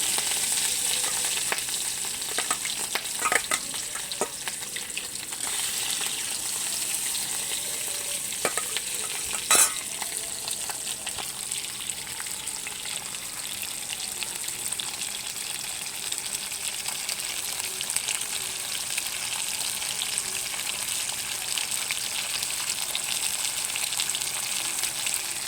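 Catla fish pieces, rubbed with salt and turmeric, fry in hot oil with a constant bright sizzle and crackle, punctuated by a few sharp pops and spits; steady and close throughout.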